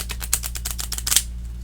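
Sharp-edged, gilded Lenormand cards from a small Shadowland deck riffle-shuffled close up, a rapid run of crisp papery snaps ending in a louder flurry before the cards settle.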